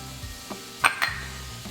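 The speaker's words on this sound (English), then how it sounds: "You can hear that sizzle." Onions and jalapeno sizzling in hot oil in a pan: a faint, steady frying hiss with a few light metallic clinks of utensils against cookware, and no talking.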